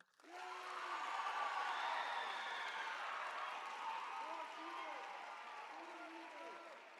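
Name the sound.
camp audience clapping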